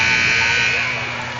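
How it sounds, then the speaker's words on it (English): A steady, loud electronic buzzer sounds for the full stretch at a high school basketball area tournament game, with gym crowd noise beneath, fading only slightly toward the end. "There's the buzzer."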